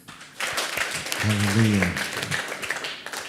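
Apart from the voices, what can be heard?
audience applause in a church talk show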